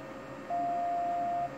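A Panasonic NT321 office phone gives a single steady electronic beep from its speakerphone key, lasting about a second, clear and alone over a faint room hiss.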